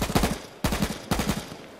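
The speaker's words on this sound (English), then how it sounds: "Is that you shooting?" Three gunshots in the H1Z1 video game, each a sharp loud crack with a short decaying tail, spaced evenly about half a second apart.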